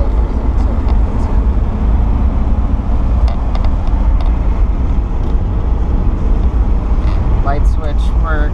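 A 1949 Ford Deluxe shoebox car's engine runs with a steady low rumble throughout, heard from inside the car beneath someone talking.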